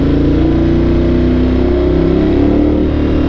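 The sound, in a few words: Ducati 1200 Multistrada Enduro motorcycle engine revving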